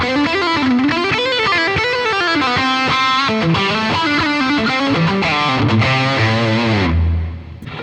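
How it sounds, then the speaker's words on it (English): An overdriven electric guitar lead patch on a Boss GT-1000 plays a gritty line with bent and sustained notes, ending on a lower held note as it fades. "Patch 8 is my overdriven lead sound."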